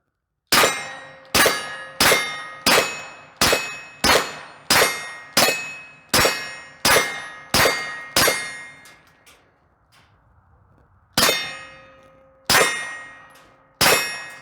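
A PSA Dagger 9mm pistol fires 124 grain S&B round nose ammunition: a quick, steady string of about eleven loud, sharp shots with ringing tails, a short pause, then three more shots.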